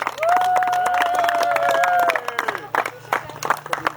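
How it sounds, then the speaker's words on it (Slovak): Audience applause for a sponsor at a pétanque festival, a burst of scattered clapping from a crowd under a sustained tonal sound, then thinning into sparse claps as it fades. "Takže poprosím potlesk pre firmu Tranquilder."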